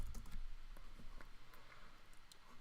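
Computer keyboard typing a networking configuration command, a quick run of soft, close key clicks followed by a few scattered taps.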